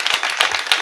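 An audience at a kirtan claps for the mridang player, a brief close burst of applause with a few distinct hand claps.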